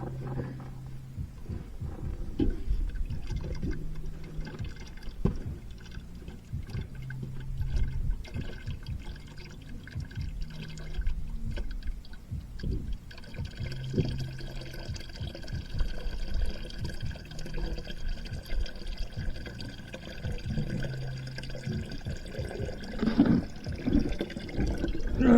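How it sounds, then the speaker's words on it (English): Water draining out of a flooded engine into a nearly full 5-gallon bucket, a steady close trickling and splashing with faint rhythmic low thumps, continuous throughout with no talk. "I should probably find the drain plug because our bucket's almost full."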